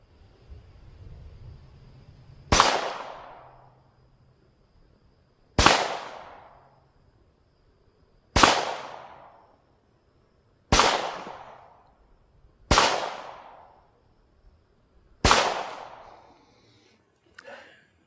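Six sharp .22 rifle shots from a Browning plinker crack out one by one at roughly even intervals, each loud report followed by a brief decaying ring in quiet outdoor surroundings.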